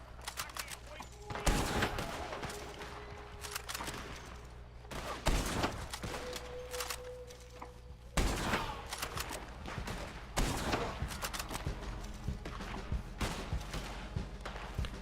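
Gunfire in the video game Red Dead Online cracks out in bursts of rapid shots, several dense volleys separated by short pauses, loud and close over a low game background.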